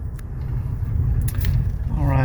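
1995 Mercedes E300 rolling down a residential street, a low steady engine and road rumble from inside the car, with a voice speaking over it.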